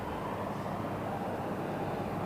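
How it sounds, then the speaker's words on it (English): An American Airlines Boeing 777 departing Heathrow, heard as a continuous wide roar of jet engines at a steady, fairly loud level, distant and unbroken, with no voices. "American sounds like a 777 going out as well"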